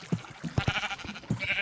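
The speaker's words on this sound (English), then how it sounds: "We've got an automated sheep farm." Sheep bleat on an automated sheep farm in a modded block-building video game, a few short close bleats over a soft background.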